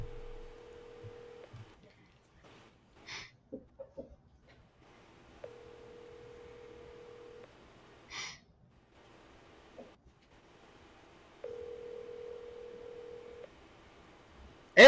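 Three bursts of steady telephone dial tone, each lasting about two seconds, separated by short clicks and faint background noises, heard close and alone with no talking.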